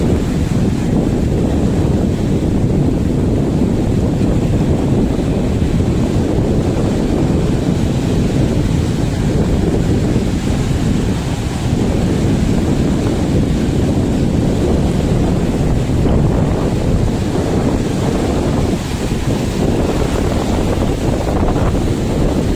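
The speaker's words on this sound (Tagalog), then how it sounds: "Ang lalaki ng mga alon" Big ocean waves churn and crash continuously on the coast at Calatagan, loud and close, with strong wind buffeting the microphone throughout and no voices.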